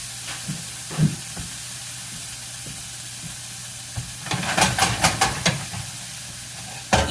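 Onions sizzling in a skillet, a steady hiss of frying punctuated near the end by a cluster of scraping, clattering tosses of the pan.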